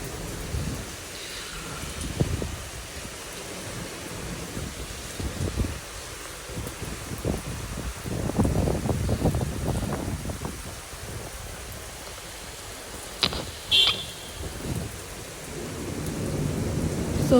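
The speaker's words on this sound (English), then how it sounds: "Never seen a thunderstorm like this." Heavy thunderstorm outdoors with steady hard rain pouring on surfaces, rumbling thunder rolling in several bursts and a sharp crack near the end, alone without talk.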